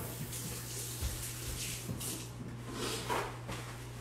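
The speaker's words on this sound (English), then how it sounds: "So let me rinse my hands off." Kitchen tap water runs steadily into a sink as hands are rinsed beneath it, a close, even splashing flow with small surges and no voices.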